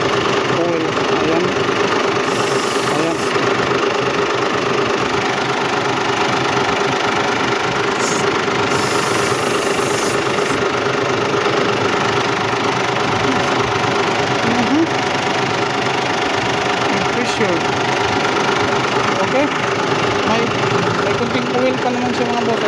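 2014 Ford Everest engine idling with the A/C compressor running erratically while its system is checked: a steady, loud mechanical drone with faint ticking and a few brief hissy bursts, continuous throughout.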